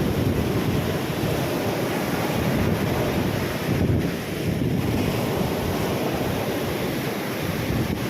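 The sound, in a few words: big waves of rough sea during typhoon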